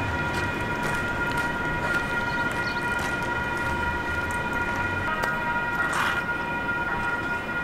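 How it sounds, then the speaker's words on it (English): San Diego trolley sounding a siren-like horn in a railway setting, a steady wailing tone held over background rumble, moderately loud and rising briefly near the end. "every time they blow the horn, it sounds like a police car"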